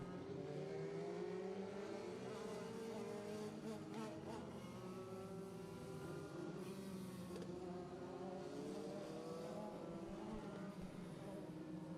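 INEX Legends race cars howl around an oval track to the finish of a heat race, overlapping engine notes sweeping up and down at a steady distance, loud and continuous.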